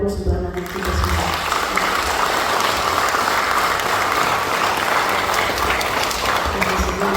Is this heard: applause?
yes